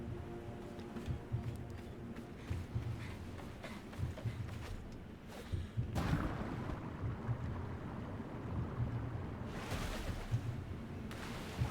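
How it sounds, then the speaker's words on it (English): Ocean waves wash and surge steadily in the video game Wavetale, a continuous rushing roar with louder swells rising now and then and no voices over it. "I think I prefer the sounds of waves and seagulls shrieking"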